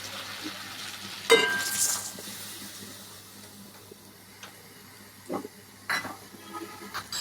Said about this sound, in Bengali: আমি এখন এর মধ্যে পরিমাণ মতো জল দিয়ে দিব যাতে মাছগুলো ভালোভাবে সেদ্ধ হয়ে যায়।